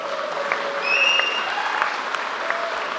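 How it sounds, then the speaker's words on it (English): A graduation audience bursts into applause, a dense crowd of clapping hands sustained evenly across the moment, with a bright whistle cutting through near the start. "Give the baby a round of applause."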